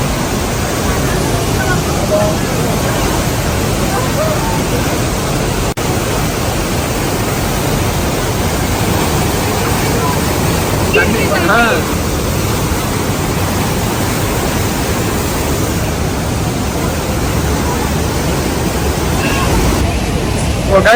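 A steady, loud roar of rushing water from the Rhine Falls in Switzerland fills the whole stretch, constant and dense, with faint voices lost under it.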